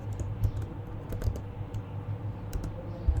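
A computer keyboard is typed on while writing CSS code, with quick, uneven clusters of close key clicks and taps in a steady run, no talking.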